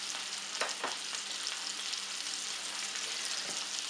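Steak frying in a hot pan gives a steady, dense sizzle with no voices, holding at an even level for about four seconds, with a few sharper crackles early on.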